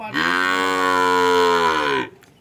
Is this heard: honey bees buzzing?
no